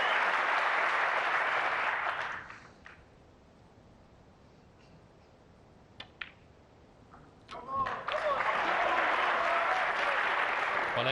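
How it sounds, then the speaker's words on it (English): A snooker crowd applauds a shot, with loud clapping that fades to near silence, then a second burst of applause swells up for the next ball. "every ball is being cheered in by this crowd"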